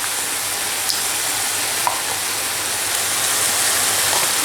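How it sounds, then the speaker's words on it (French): Chicken and mushroom filling, meant for stuffed potatoes, fries in a pan with a dense, continuous close sizzle and a few faint clicks from occasional stirring, with no voices. "je laisse tout ça cuire pendant 6 à 7 minutes en remuant de temps à autre jusqu'à coloration"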